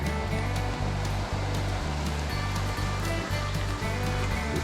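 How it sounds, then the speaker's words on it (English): Fast-running creek on the Ouachita Trail, a steady full rush of water with a low, rhythmic churning underneath, heard close and alone without pause. "That's the creek."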